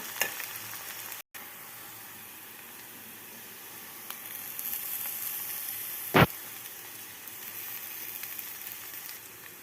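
Soft, steady sizzle of frying in a pan with white and red husk peels, a faint continuous hiss broken by one sharp clack partway through, close and quiet, no voices.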